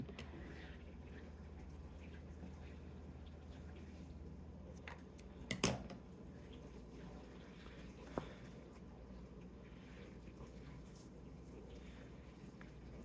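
Scissors cutting down a Dollar Tree cap tag: a faint close snip around the middle, then a second softer snip, in a quiet room with low background noise.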